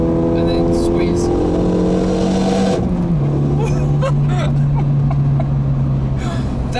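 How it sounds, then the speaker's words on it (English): A Renault Mégane RS 275 Finale engine holds a steady drone that drops in pitch through an upshift, with a quick pop at the change, heard from inside the car under constant engine noise with people talking. "That's like one of the coolest sounds I've ever heard, the pop on the upshift"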